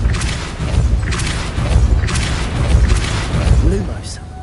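Hogwarts Legacy gameplay with the Depulso spell cast: a few heavy booming thumps and rumbling impacts in quick succession, close and loud, over low game ambience with some speech.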